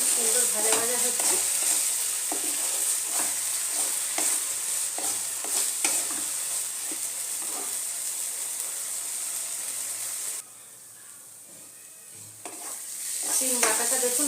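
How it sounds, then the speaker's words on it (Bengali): Mashed flat bean paste fries in a pan over a medium flame, with a steady close sizzle broken by repeated scraping stirs, a brief quieter lull, then the sizzle swelling again. "সিমটা আমার খুব সুন্দর ভাজা ভাজা হচ্ছে।"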